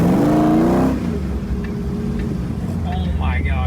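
A right-hand drive car rolls along with a steady low engine drone and road rumble, a voice talking briefly over it at the start, then higher tonal sounds like speech or squeaks near the end.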